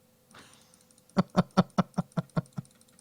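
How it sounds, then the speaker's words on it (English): Mouse button clicks rattle off in a quick, even burst of about eight sharp clicks after a softer rustle, close and fairly loud with no talking. "I'm sure you can hear the furious clicking"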